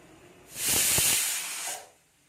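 A pressure cooker cooking rice releases a burst of hissing steam that rises sharply, holds for over a second, then fades away, close by with no voices.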